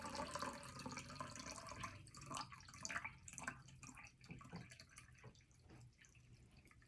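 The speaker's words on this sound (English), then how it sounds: "you want to pour slowly so it doesn't splatter" Liquid trickles and drips steadily while being poured slowly into a container for dyeing eggs purple, a soft continuous splashing with small droplet sounds close by.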